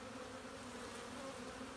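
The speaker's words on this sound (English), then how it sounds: "So these are all female bees." Honey bees buzz at a hive in a temporary home, a dense, steady hum that continues without a break, fairly faint and with no voices.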